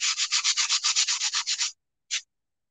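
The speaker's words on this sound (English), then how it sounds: "You'll get a regular sanding block then?" Hand sanding a Dollar Tree coaster with a regular sanding block: about a dozen quick, even rasping strokes in a steady rhythm, close and fairly quiet, then a pause and one last stroke.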